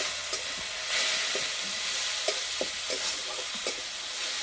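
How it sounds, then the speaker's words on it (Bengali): Ground spices (turmeric, chili and cumin powder) with a splash of water sizzle steadily in a pan for a Bengali cabbage-and-egg dish, with several sharp scraping stir strokes of a spoon breaking through the continuous frying hiss. "মশলা ভালো করে কষিয়ে নেব।"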